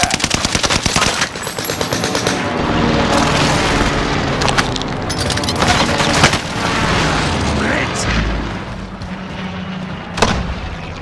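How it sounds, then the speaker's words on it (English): Airstrike explosions in Call of Duty: Modern Warfare boom loudly amid rapid machine-gun fire, a sustained barrage of blasts and rattling shots with a few sharp cracks, and a voice speaks over the din. "Allied precision airstrike incoming."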